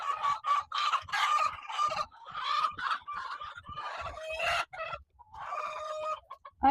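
A flock of around 320 cage-free laying hens on an egg farm clucks and squawks densely and nearby, with overlapping calls in quick bursts and a rooster-like crow among them.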